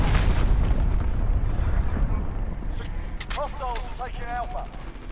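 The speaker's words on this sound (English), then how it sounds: "Enemy cruise missile incoming." A cruise missile strike in Call of Duty Modern Warfare lands with a loud, deep explosion that rumbles and fades, followed by quieter chirps and blips of game effects near the end.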